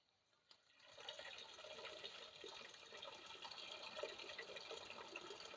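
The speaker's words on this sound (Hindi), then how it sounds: "तो अब इसमें हम पानी डाल देते हैं।" Water pours steadily into a pot of cooking daal, a continuous splashing rush starting after a brief clink and running unbroken to the end, fairly close with no talk over it.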